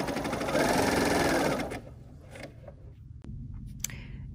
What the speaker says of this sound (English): now we're just going to serge our cuff for the top of our